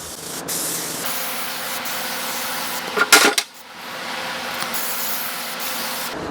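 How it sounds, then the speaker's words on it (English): A short, sharp aerosol burst of solvent-based carburetor, choke and butterfly cleaner, lasting about half a second, rises from a steady background hum in a workshop and then stops. "always use a solvent-based carburetor, choke, and butterfly cleaner"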